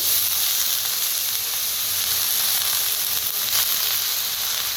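Fenugreek leaves tossed into a pan of roasted vegetables, sizzling with a loud, steady frying hiss that carries on throughout without any talking.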